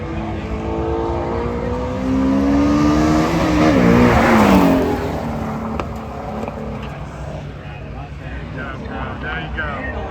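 A Ford Mustang drag racing at a spectator drag event, engine roaring loudly as it accelerates and swells to a peak mid-clip before fading, heard amid crowd noise and nearby voices.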